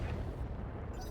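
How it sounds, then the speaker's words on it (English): Full weapons salvo fired by a BattleTech mech at a Locust in RogueTech, a dense rumbling barrage of booming explosions with no gaps, loud and continuous. "Firing a full salvo."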